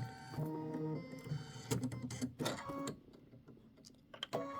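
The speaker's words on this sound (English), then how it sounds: "And this is 3 minutes of stitching." An embroidery machine stitches a quilt block for a Halloween pumpkins-and-potions project, a quiet, close mechanical whir with tonal hum and intermittent clicking bursts near the end.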